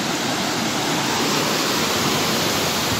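Strong rushing water, heard as a dense, steady roar close by that fills the short stretch without a break and with no talking.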